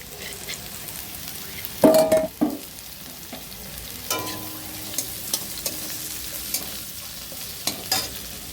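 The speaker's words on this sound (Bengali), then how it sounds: "পেঁয়াজ কুচি কাঁচা লঙ্কা কুচিটা একটু লাল লাল করে ভেজে নেব" Chopped onion, green chili and ginger paste fry in hot oil with a soft steady sizzle, broken by a loud burst of stirring early on and then a string of lighter, regular scrapes against the pan.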